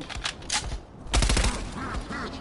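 Rapid gunfire from a zombie shooter video game, Streets of Red: Devil's Dare Deluxe, comes as clustered sharp bursts with a denser, louder volley midway, then lingering game noise.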